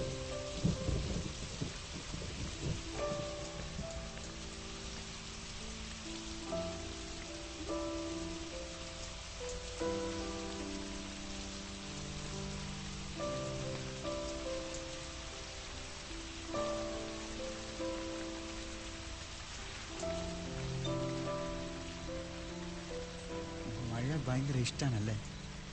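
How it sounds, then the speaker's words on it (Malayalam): Steady rainfall patters on surfaces while thunder rumbles deep and low beneath it, and a calm instrumental melody plays over the storm throughout, with a louder crack of thunder near the end. "മഴ."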